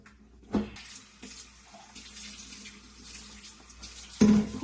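Hot tap water runs steadily into a kitchen sink before dishwashing, a close continuous splashing hiss with a couple of louder clunks near the start and end.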